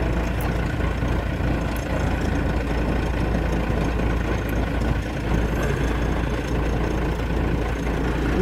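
A military 6x6 tractor's engine idles steadily in a low, even rumble that holds without pause throughout.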